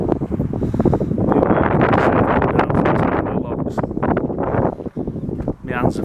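Strong wind buffets the microphone in a continuous loud rumble outdoors at a cold boat yard in Market Drayton, with gusty roaring throughout.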